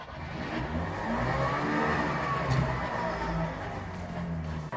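A Trabant 601S two-stroke engine drones steadily and close from inside the car, with a low, even rumble and a slight rise in revs partway through, and nobody speaks.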